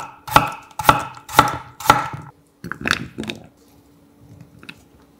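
Small halved potatoes are sliced about 0.4 cm thick with a knife on a cutting board, giving four crisp, evenly spaced chops followed by a few softer, quicker cuts and faint handling noise.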